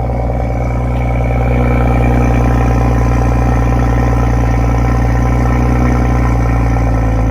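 A loud Toyota Supra engine idles steadily at high revs after a cold start, a dense continuous burble with a faint mechanical clatter throughout.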